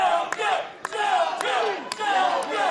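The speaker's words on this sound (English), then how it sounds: "The crowd trying to egg on Shogun" A crowd at a wrestling event chants in rhythm, a loud massed call repeated about every half second, punctuated by sharp bangs from the ring.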